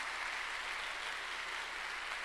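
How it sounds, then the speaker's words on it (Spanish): Congregation clapping together during a lively church service, a dense continuous wash of many hands applauding steadily throughout, with no voices standing out. "Llévale palmas al Señor."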